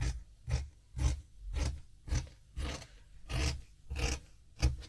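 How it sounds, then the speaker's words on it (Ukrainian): Fabric being cut along a curved line for a midi skirt, a series of about nine rasping scissor snips in an even rhythm, close and moderately loud, with no talking. "Отак напівокруглою лінією ми це все вирізаємо."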